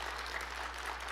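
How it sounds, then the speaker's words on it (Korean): Congregation clapping during a Sunday evening church service, a faint, distant wash of applause held evenly throughout over a low steady hum. "좋으면 박수 한번 쳐주십시오."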